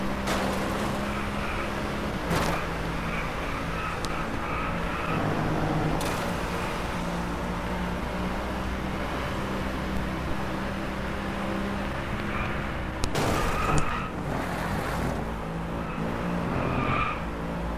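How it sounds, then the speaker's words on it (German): A race car in the racing game Driveclub held at full throttle, its engine droning loud and steady as the tires squeal and skid through long slides, with a few sharp knocks and bumps along the way. "Du gibst viel Vollgas, du rutschst schon vorbei"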